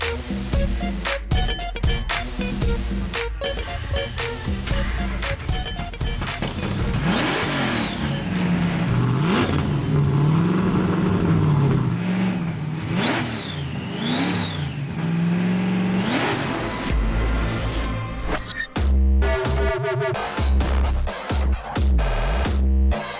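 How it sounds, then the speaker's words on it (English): A supercharged LS1 V8 fitted in a Daihatsu Charade show car revs hard and repeatedly, with the pitch sweeping up and falling back in several loud bursts and a deep rumble between them. "It's a Daihatsu Charade, but it's got an LS1 supercharged motor in it."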